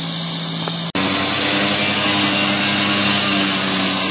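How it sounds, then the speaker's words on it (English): Heavy road mixers grind deteriorated old asphalt mixed with spread Portland cement to stabilize a road base, a loud steady broadband machine roar that cuts in abruptly after a brief quieter hum and continues unbroken. "Grind it up with our mixers, stabilize the base"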